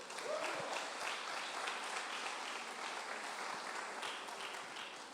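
Congregation applause for the Lord at a Brazilian church service: dense, steady clapping from a crowd throughout, moderately distant, with no voice over it.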